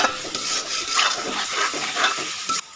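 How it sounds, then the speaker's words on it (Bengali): Eggs from country chickens being sautéed in a spiced curry in a pan give off a steady, close sizzle, with stirring scrapes and soft utensil clinks throughout. "ডিমটা দিয়ে একটু কষিয়ে নিব"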